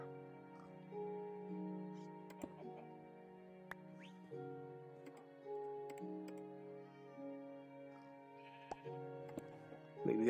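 Blocky sheep in Minecraft bleat in short, evenly spaced calls over a quiet game soundtrack of sustained tones, with faint clicks and taps between the bleats.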